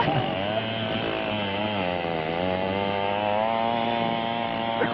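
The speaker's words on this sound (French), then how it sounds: "je suis avec la tronçonneuse entre les mains. J'entaille l'arbre." Chainsaw cutting into an okoumé tree, its engine droning loud and close, pitch wavering slightly as the chain bites into the wood, running continuously.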